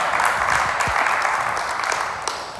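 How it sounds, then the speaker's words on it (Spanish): Congregation applauding loudly in a church during a pastors' study session, a dense steady wash of clapping filling the whole stretch with no pause. "Le da ese aplauso fuerte a Él."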